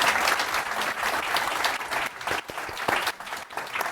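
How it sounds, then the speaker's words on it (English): Conference audience applauding panelists at a green transition event, a sustained, even roar of many hands clapping across the hall that runs for four seconds with slight dips, with no clear speech over it. "Please give our panelists a warm round of applause."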